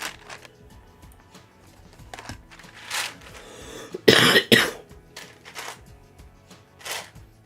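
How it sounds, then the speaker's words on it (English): Two sharp, close coughs in quick succession over faint rustling and light tapping, with a softer cough-like burst shortly after. "I still cannot shake this cough."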